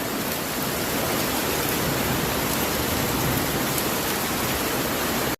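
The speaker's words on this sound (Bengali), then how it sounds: "অনেক বৃষ্টি হচ্ছে।" Heavy rain pours down as a steady, dense hiss that stays loud and even throughout, with no voices over it.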